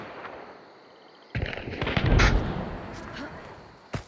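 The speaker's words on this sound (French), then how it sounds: "Ils nous tirent dessus." Gunfire in the video game Hunt: Showdown: a quiet lull, then a sudden loud burst of shots and rumbling blasts that decays over a couple of seconds, followed by a sharp single crack near the end.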